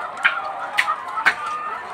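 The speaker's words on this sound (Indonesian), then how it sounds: "ini ada berapa ekor ayam sing nek kandang" Chickens in a coop cluck close by, with three short, sharp clucks spaced about half a second apart over a low, quiet background.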